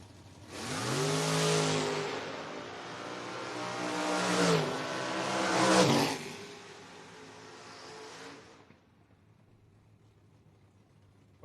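Drag race cars including an 81 Camaro launching at the FRBR Footbrake Feast, loud engines revving hard and roaring through gear changes for about eight seconds before fading abruptly into quiet.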